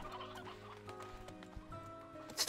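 Fowl calls from Slime Rancher 2, clucking and gobbling chicken-like sounds over a busy game soundscape, with a couple of louder squawks near the end.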